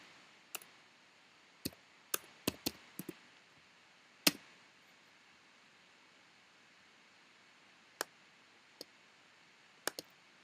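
A computer mouse clicking in medical records search software: a dozen or so sharp, quiet clicks, some close together in pairs, scattered irregularly over a near-silent background.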